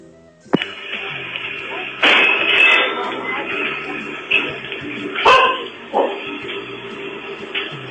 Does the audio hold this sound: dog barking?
yes